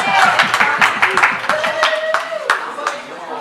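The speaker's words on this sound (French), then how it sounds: "Donc vos applaudissements pour les 4 vainqueurs." Audience clapping for four game winners at a Comorian culture and language event, with a few hands beating in a steady rhythm close by and a voice speaking over the applause.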